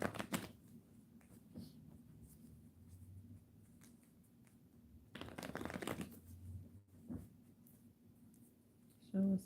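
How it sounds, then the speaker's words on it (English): Tarot cards riffled and shuffled close by, with soft papery flutters and a brief louder shuffle burst partway through, under occasional faint murmuring. "One more shuffle."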